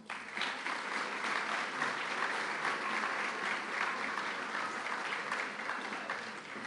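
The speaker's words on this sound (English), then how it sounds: "Please, let's have a big hand of applause for our newest Americans." Sustained applause from an audience at a U.S. naturalization ceremony welcoming new citizens, a dense, even roar of clapping that holds steady for several seconds.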